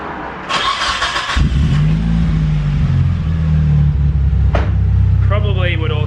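A Mitsubishi Evo engine cranks and fires up just after an oil change, settling into a loud, steady idle rumble close by, with a brief higher whir near the end.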